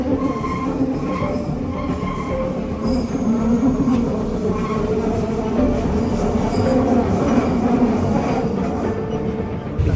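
Steady rumble of a Paris metro train in motion, with wheel noise and faint squealing continuing throughout, loud and close.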